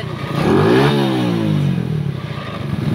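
A motorcycle with a hard-starting fault revs at full throttle, a loud close engine roar that rises, then holds and wavers without climbing higher.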